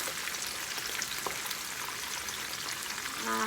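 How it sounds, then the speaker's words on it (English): Seasoned fish frying in oil in a pot, a dense continuous sizzle with fine crackling pops, close and steady, with a brief low hum near the end. "put some oil in the pot and fry them off"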